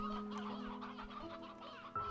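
Chicken clucking in the Slime Rancher 2 video game, a series of short, close, clear clucks over a soft steady game hum, no voices.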